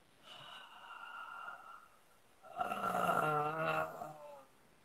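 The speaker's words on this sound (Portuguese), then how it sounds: "a gente enche o pulmão pelo nariz, mas enche muito e vai soltar pela boca, tem que fazer um barulho" A deep yoga breath drawn in through the nose, followed by a loud, forceful exhale through the mouth, close and alone, the breathing audible in two long, breathy swells.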